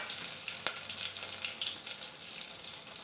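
Curry leaves dropped into hot oil already crackling with mustard seeds, a bright continuous sizzle with a sharp pop near the start, close and steady without talk.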